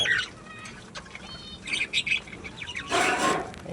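A bird gives sharp squawks and chirps at close range, followed by a brief burst of flapping wings near the end, with quiet background hiss.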